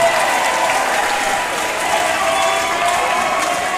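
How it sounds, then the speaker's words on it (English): Crowd cheering and applauding at the end of a fight round, a loud sustained roar of clapping and voices filling the whole stretch without a break. "Cheers from the crowd."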